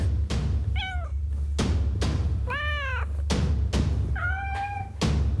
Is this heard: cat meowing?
yes